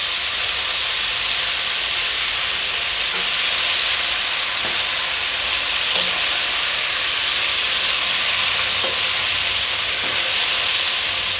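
Squid frying in a batch in hot oil, making a loud, steady hiss and sizzle that runs unbroken throughout with faint crackles, and no voices.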